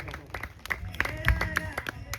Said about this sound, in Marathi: या 2 फलंदाजांसाठी आपण एकदा जोरदार टाळ्या वाजवा मित्रांनो